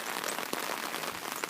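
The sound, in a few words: rain falling during flooding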